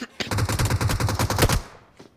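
A loud burst of rapid automatic assault rifle fire in PUBG Mobile rattles for over a second, then stops abruptly and leaves a short fading echo.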